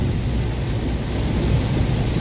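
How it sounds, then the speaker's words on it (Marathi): Heavy rain makes a steady, dense roar, drumming on a car from inside, with no pauses throughout. "पाऊस खूप जोरात आलेला आहे"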